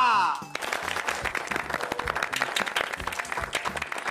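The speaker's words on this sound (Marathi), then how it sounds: "टाळ्या." An audience bursts into sustained, dense applause for a prize winner at a housing-society event, with music cutting off just before the clapping starts.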